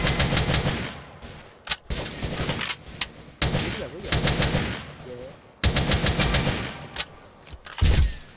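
Bursts of rapid automatic gunfire from a Roblox shooter game crackle in short clusters with brief pauses between, loud and near, while a player's voice talks over parts of it.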